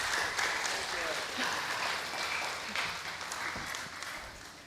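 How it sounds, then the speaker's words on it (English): Audience applause at an international guest lecture for Dr. Robert, a full, steady wash of clapping that gradually eases, with a voice faintly under it. "give a big applause for Dr."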